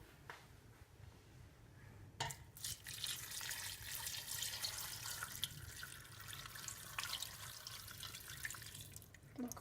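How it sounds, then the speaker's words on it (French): Water pours into a pot of cassoulet ingredients, a continuous close splashing stream with dripping that grows fuller after a sharp start, faint overall and without talk. "Et alors maintenant, vous allez couvrir le tout d'eau."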